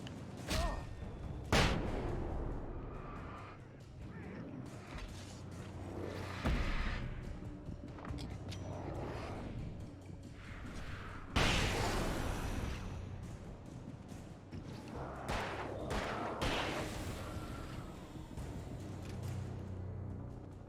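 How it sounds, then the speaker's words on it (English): A flashbang grenade goes off in the Alan Wake video game: sharp, loud broadband bursts amid a busy, dense game soundscape, with several strong hits spread across the stretch and no talking. "Flashbang for the win."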